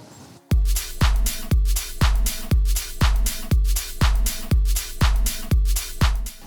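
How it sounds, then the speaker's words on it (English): A chunky house-style engineered drum groove, loud and steady, with punchy kicks on a regular beat and bright, prominent hi-hats and busy shakers filling the top, playing alone without any voice. "And the engineered drums sound like this."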